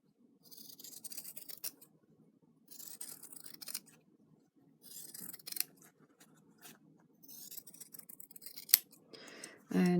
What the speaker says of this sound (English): So I am now going to be cutting it out, leaving a 1/4 inch seam or thereabouts.